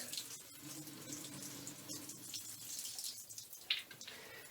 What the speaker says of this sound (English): I need to empty out some of this water.